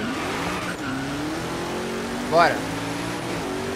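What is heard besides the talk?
Zenvo ST1 race car driving in video game Forza Horizon 3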